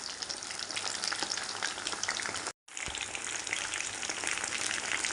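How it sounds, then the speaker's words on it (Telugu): Chicken pakoda pieces fry in hot oil, a dense, steady, close crackling sizzle with tiny popping bursts, broken once by a split-second gap of silence, with no voices. "ఇలా తిప్పుకుంటూ నిదానంగా కాల్చుకోవాలన్నమాట అప్పుడు లోపల కూడా బాగా సాఫ్ట్గా ఉడుతుంది"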